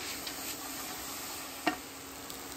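Vegetables sweating in a pan with smoked sausage over medium-low heat, a soft continuous sizzle with one brief sharp tick of stirring midway, quiet and close.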